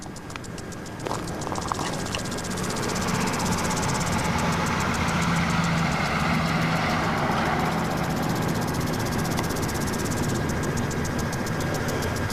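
A Bedini rotary magnetic motor unit spins steadily in a basement, giving a continuous mechanical whir with a fast, even rhythmic ticking that holds for the whole stretch.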